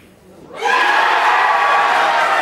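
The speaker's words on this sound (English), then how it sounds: "Crowd will go up." Crowd erupting into loud cheering and shouting at a women's bowls teams final between Queensland and the Australian Capital Territory, jumping suddenly from quiet to a sustained roar.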